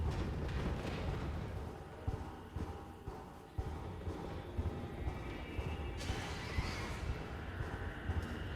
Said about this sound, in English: Is that a fucking horse?